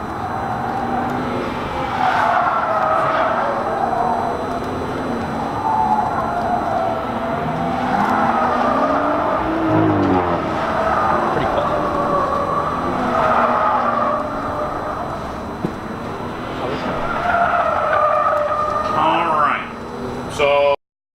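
A BMW 540i driven hard through track corners, engine note rising and falling with tire squeal as it comes around again, heard from a distance while a person talks over it throughout.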